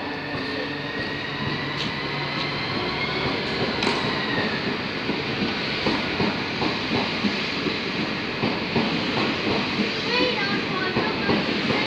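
A Southeastern Class 395 high-speed electric train, unit 395006, departs platform 3 at Ramsgate station with a rising hum and rolling rumble of wheels, steady and fairly close. A faint voice is heard in the background.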